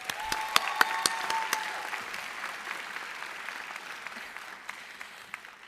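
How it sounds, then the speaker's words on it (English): Applause from the crowd for the class of 2022 at Atlanta's John Marshall Law School graduation, a few loud close claps at first over a broad wash of clapping that gradually fades to scattered claps. "let's have one more round of applause for the class of 2022"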